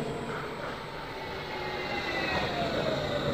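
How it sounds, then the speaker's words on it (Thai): A train in the video game Babbdi rolls in and comes to a stop, heard as a steady broad rumble and hiss with faint high squeals toward the end, continuous and moderately loud with no talking. "รถไฟก็มาจอด"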